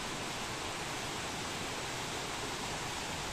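Rushing water of a stream along a nature trail at Poço das Antas, a steady, loud broadband wash filling the whole clip with no pauses.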